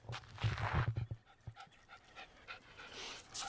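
A dog pants rapidly and audibly inside a car, close to the microphone, with quick breathy bursts and a few small whimpers, no talking.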